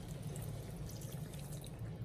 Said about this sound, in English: I'm gonna add probably about half a cup of water